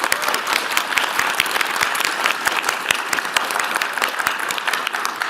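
Audience applause at a panel discussion on AI for access, a steady patter of many hands clapping at moderate distance, individual claps distinct within the sustained sound, no talking.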